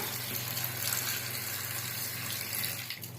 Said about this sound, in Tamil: இப்போ நண்டு மூழ்கிற அளவு தண்ணி ஊற்றிக்கலாம்